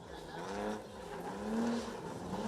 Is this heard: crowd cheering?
no